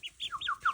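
Newly hatched ducklings give high, thin peeps in a quick sequence of short chirps, some falling in pitch, heard fairly close in a quiet setting.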